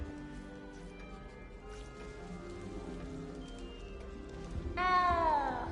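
A small cat in a Hogwarts castle video game gives a clear rising meow near the end, over a soft patter of rain-like ambience and low game background.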